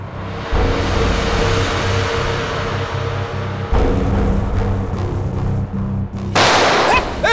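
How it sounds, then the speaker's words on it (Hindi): Gunfire in a CID TV drama shootout set in a jungle, rapid loud continuous shots layered with a heavy low rumble, ending in a sharper burst with ringing whines. "विक्रांत, कवर फायर दो जल्दी।"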